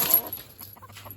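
Chickens crowd around a coop gate with short clucks and soft calls, starting with a louder burst and then trailing into scattered clucking close by.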